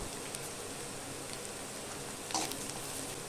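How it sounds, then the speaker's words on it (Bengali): Panch phoron spices sizzle in hot oil in a pan with onions, making a steady, soft frying hiss throughout with a brief sharper crackle near the end. "এখন এর মধ্যে আমি দিয়ে দিব কিছু পাঁচ ফোড়ন"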